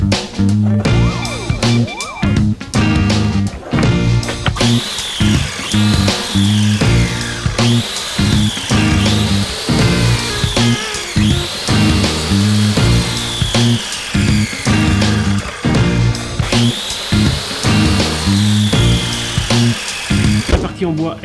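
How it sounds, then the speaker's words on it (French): Power tool, likely a router, cutting a small rebate all around the edge of a wooden smartphone charging dock, a loud continuous whine with repeated rising and falling pitch sweeps as the cutter moves along the wood, over many short bursts. "Maintenant je vais faire une petite battée sur tout le tour et passer à la finition."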